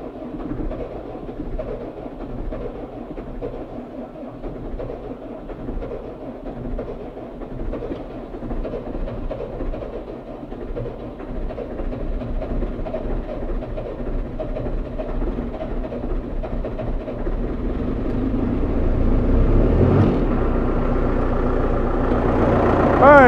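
A cold engine turns over in a labored, pulsing rhythm that gradually strengthens, then catches at the end and settles into a louder, steady, close-up idle with a deep rumble.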